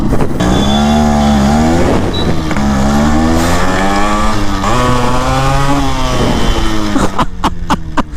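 A Yamaha RX135 vintage motorcycle revving hard through its exhaust, a loud close two-stroke engine note rising and falling in pitch over several throttle blips, with crackling pops at the end.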